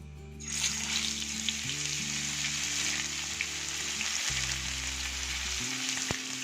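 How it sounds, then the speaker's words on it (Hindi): Fish frying in cooking oil on a flat tawa over low flame, a steady close sizzle that starts abruptly and continues loudly throughout, with faint stirring and a low background hum. "अब हम फिश फ्राई करते हैं।"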